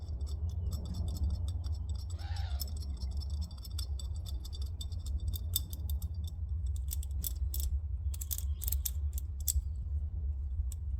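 A bolt being fitted into the steering knuckle of a Can-Am X3, heard as quiet, irregular metallic clicks and taps in bursts over a low background hum, with no speech.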